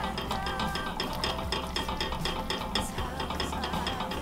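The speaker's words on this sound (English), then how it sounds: "we're gonna stir that in" A thick banana pudding mixture is stirred in a pot on the stove, giving a steady, close scraping and swishing that runs on without a break and without any talking.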